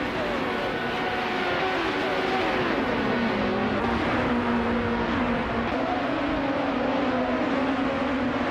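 Race cars in a racing video game drone with steady, whining engines, their pitch rising and falling as they speed along in a dense, continuous roar.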